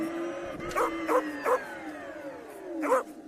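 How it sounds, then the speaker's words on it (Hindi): Dogs chasing a speeding rickshaw let out a quick run of four yapping barks, then one more after a pause, close and clear over a droning engine-like tone that slowly falls in pitch. "उसके पीछे कुत्ते पड़ जाते हैं।"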